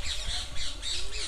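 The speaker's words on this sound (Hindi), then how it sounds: "मोर भी बहुत आ रहे हैं" Peacocks call from a garden spot where peacocks and pigeons gather, a loud, close, harsh repeated squawk that rises and falls in pulses over a low background.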